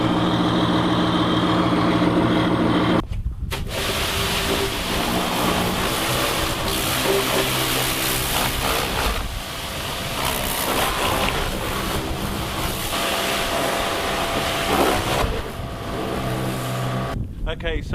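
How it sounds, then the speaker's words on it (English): A John Deere tractor engine cranks and catches after a brief silent gap, then settles into a steady, loud, continuous idle that runs on without a break, with a short drop out near the very end. "Just now going to start it up, the tractor"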